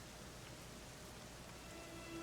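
Rain falls in the video game Dragon Quest XI, a soft, steady hiss of downpour heard alone at low level with no voices.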